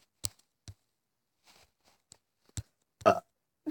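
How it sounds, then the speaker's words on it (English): A person burps, a short close belch after a few soft clicks and small mouth noises, in an otherwise quiet room. "I had to burp, okay?"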